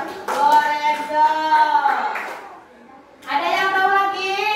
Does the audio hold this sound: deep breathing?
no